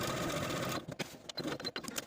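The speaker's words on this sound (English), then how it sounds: "Now we're going to take our back pant pieces to the sewing machine and stitch around our welt rectangle" A sewing machine stitches around a welt rectangle on back pant pieces, first a steady whirring run, then a series of short stop-start bursts as the corners are turned, close and fairly quiet.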